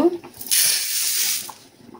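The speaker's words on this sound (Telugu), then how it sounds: "ఇది బాగా కడిగి నీళ్లు వంపేసి మళ్ళా నీళ్లు పోసి నానబెట్టుకోవాలి." Water splashes over toor dal (split pigeon peas) being washed in a kitchen for dosakaya pappu, a steady hissing rush lasting about a second before it stops.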